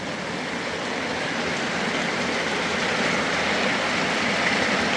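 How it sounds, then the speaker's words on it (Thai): Steady rain falls continuously outside lodging in Thailand, a dense, even hiss that stays loud and unbroken throughout. "ฝนตกพี่น้องเอ้ย"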